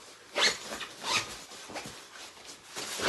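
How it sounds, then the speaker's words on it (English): Zipper on a packed carry-on suitcase, unzipped to expand it: several brisk rasping zip strokes, close and moderately loud, with no talking. "me go ahead and unzip this so it makes it bigger."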